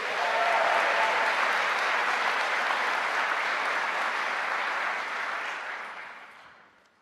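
A graduation audience at a Liverpool University School of the Arts ceremony breaks into loud, dense applause that holds steady for several seconds, then fades away toward the end.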